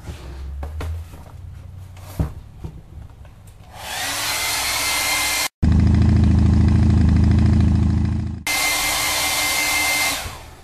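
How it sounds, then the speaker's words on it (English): A hand-held hair dryer blows on a piece of artwork in bursts: a steady loud whir cuts off, restarts with a deeper hum, then switches back to a high-pitched rush, all close to the microphone and with no speech. "This is not quite dry. We're going to dry this just a little bit more"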